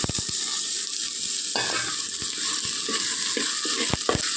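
Chopped tomatoes frying in a pan with onion and sautéed ginger-garlic paste for a home-style broiler chicken curry, a steady close sizzle broken by sharp stirring scrapes and clinks of the spoon.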